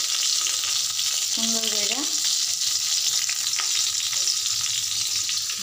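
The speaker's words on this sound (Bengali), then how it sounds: "তো এখানে করতেছি বেগুন ভাজি।" Eggplant frying in a little oil in a pan crackles in a loud, steady sizzle with stirring scrapes, and a few brief spoken words sit over it.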